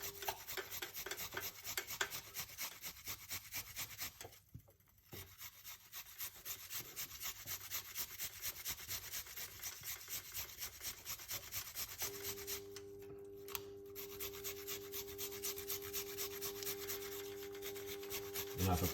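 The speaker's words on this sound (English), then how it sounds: "It's gonna grate a little piece of ginger" Fresh ginger root rasped on a grater with light pressure in a kitchen, a steady run of quick scraping strokes close up, one short pause partway through and no talking.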